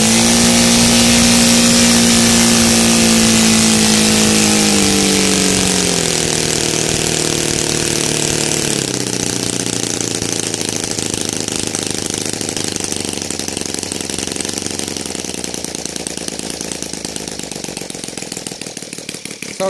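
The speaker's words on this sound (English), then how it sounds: "so it's like probably a 3-4 seconds until the engine comes down to the nice little idle" A Saito R200 radial model engine with CH ignition, running on gasoline, roars loudly at high revs, then drops in steps to a steady, throbbing idle that carries on for the rest of the stretch.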